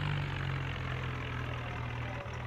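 A tractor engine in a farming video game labours steadily under load, a continuous low drone with a strong constant hum, loud and close throughout with a brief dip near the end.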